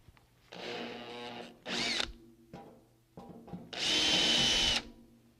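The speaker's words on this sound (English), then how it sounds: "Now I've changed bits so I can enlarge the holes where I will attach the dust port to the cabinet." A power drill with a fresh bit enlarges holes in a steel table-saw cabinet for a dust port, running in several bursts of whining with short pauses between, the last burst long and steady with a high metallic squeal.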